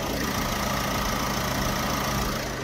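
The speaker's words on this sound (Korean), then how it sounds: "이렇게 영상에서 듣는 것처럼 디젤 엔진이라 어느 정도 소음은 있지만" A 2019 Korean diesel SUV idles with its hood open, a steady low rumble and even mechanical clatter recorded close to the engine bay, with no talk.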